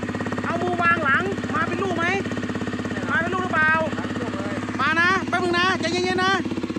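Honda CRF250L 2017 motorcycle engine running at a steady, loud idle with a constant low rumble throughout, while someone talks over it.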